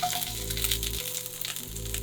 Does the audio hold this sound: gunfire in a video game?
no